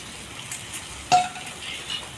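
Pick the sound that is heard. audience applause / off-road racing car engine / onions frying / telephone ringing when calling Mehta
onions frying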